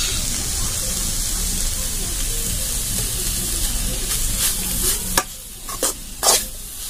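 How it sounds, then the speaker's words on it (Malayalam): Banana flower thoran, a Kerala stir-fry, being stirred in an open pan, with a steady soft sizzle and scraping throughout, then a few sharper scrapes and clacks near the end. "തുറന്ന് വെച്ച് തന്നെ ഇത് ഇങ്ങനെ ചിക്കി കൊടുത്താൽ മതി."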